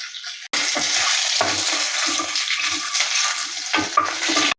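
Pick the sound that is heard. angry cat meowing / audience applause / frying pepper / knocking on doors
frying pepper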